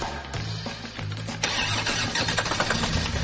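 A car engine cranks with a rhythmic starter churn, then catches at about a second and a half and settles into a loud, steady run close by.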